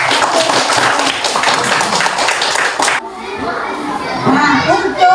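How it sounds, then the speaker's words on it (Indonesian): Children in a classroom clap their hands together in a loud, dense burst of about three seconds, then stop abruptly, leaving quieter room chatter and voices. "Kasih tepuk tangan."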